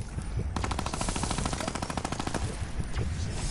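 Rapid pistol fire in the video game Fortnite, a fast burst of evenly spaced shots lasting a few seconds, loud and close, with a faint voice underneath.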